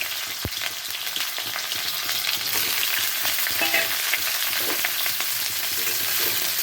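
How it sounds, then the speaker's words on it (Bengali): Boiled potato and cauliflower frying in hot mustard oil in a kadai, a steady, close, dense sizzle that runs throughout with occasional stirring scrapes and no talking. "এখন সেদ্ধ করা আলু আর কপিটা একটু হালকা করে ভেজে নেব।"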